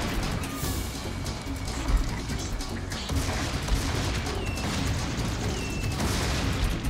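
Dense, continuous gunfire from the first-person shooter Serious Sam 2, with rapid overlapping shots and blasts sustained loud throughout, while a player talks faintly now and then.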